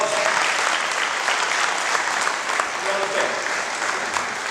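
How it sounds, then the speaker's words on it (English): A round of applause at a corporate gathering, a steady wash of clapping from a sizeable crowd with faint voices underneath. "Let's have a round of applause."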